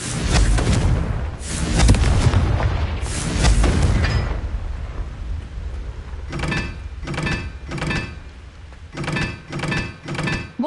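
Confringo blasting-spell explosions in the video game Hogwarts Legacy: three heavy booming blasts, then a rapid series of shorter thumping bursts, loud and close with no talk.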